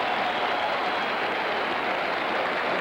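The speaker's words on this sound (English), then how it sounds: "Listen to the crowd." A large crowd cheers and applauds at the 1973 Belmont Stakes horse race, a dense, loud, continuous roar of voices and clapping with no pauses.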